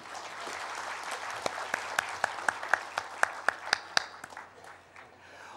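An audience applauds at a closing session of a civic conference on SDG implementation in Bangladesh, a few sharp claps first, then a short burst of clapping that swells and tapers off within seconds.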